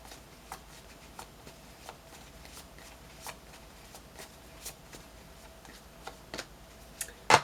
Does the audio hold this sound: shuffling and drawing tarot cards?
yes